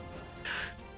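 Hawk Spirits skill sound in Maplestory, a single short, bright, harsh screech like a bird's cry rising abruptly over steady game background noise.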